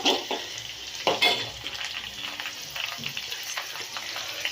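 A dhokla mixture sizzles and is stirred and sautéed in a pan, with clinks and scrapes of a utensil against the pan over a steady frying hiss, close and busy.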